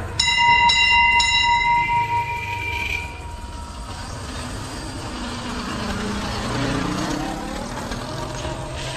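A metal bell at a Mahakaleshwar (Shiva) temple in Gopalnagar rings with a few bright, ringing strikes whose tone lingers and fades over a steady outdoor background rumble, with no voices.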